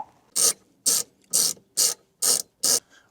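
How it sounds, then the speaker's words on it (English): A ratchet wrench loosening a T40 seatbelt bolt inside a Ford Transit Custom van, six loud evenly spaced clicking bursts close up, with nothing else audible. "Now I will take the seatbelt bolt off."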